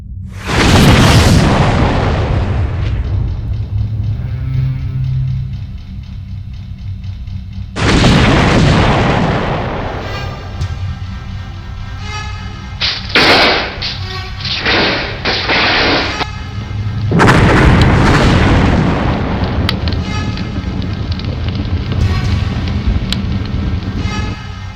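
Heavy explosions and gunfire in a science-fiction space battle: three big roaring booms land several seconds apart, each trailing into a long rumbling crackle, with sharp bursts of fire between them and no voices.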